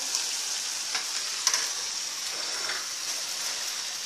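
Ground beef frying in corn oil in a pan, a steady bright sizzle with occasional small pops, continuous and fairly close, no voices.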